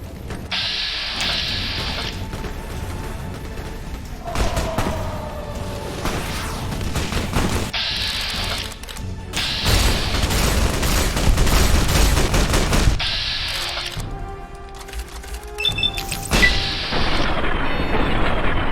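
Bursts of gunfire from Fallout: New Vegas crackle repeatedly in loud clusters with short gaps between volleys, some rapid and sustained, others single sharp shots, with occasional tonal game effects and no voices.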